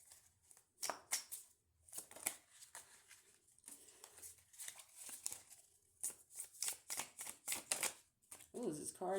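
A deck of playing cards is shuffled in quick riffling bursts, close and fairly loud, recurring through the stretch among pauses and short rustles.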